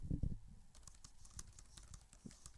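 Rapid clicky tapping like keys on a keyboard, short and fairly quiet, likely a person imitating typing rather than real keys.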